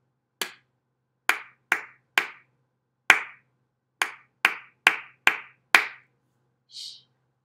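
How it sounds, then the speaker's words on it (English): Crisp single hand claps in a classroom rhythm exercise: ten sharp claps in an uneven beat pattern, each with a short bright decay and silence between, followed by a soft hushing sound at the end. "Next, we're going to clap it."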